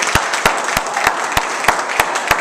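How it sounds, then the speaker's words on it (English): An audience claps steadily, with sharp beats landing in an even rhythm under a continuous wash of scattered clapping. "Let's give it a round of applause."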